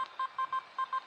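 A Simplex metal detector sounds over a large stainless steel man's ring with six short, evenly spaced beeps, faint and alone.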